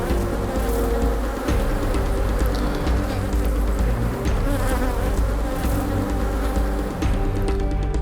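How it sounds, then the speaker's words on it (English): Honey bees swarm densely around hives at a St. Lucia beekeeping and queen-rearing site, a thick, constant, loud buzz filling the whole stretch without pause and with no voices. "how to breed a better bee and how to do queen rearing"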